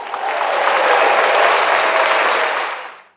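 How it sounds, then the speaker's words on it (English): A studio audience gives a round of applause, a loud, dense wash of clapping that swells quickly, holds steady and then tapers off near the end. "Let's give her a round of applause"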